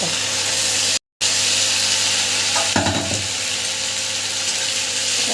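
Garlic paste sizzles in oil with fried onions, dried chilli, bay leaf and cumin, a loud, close, steady hiss with a brief dropout near the start and a stirring scrape midway.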